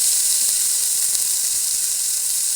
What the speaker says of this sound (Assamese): 5 মিনিটমান এই আলুখিনি ভাজি থাকিম